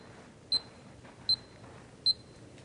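Three short, sharp electronic clicks from an EyeLine Golf Metronome PRO, evenly spaced about 0.8 seconds apart over soft background hiss, with no voices.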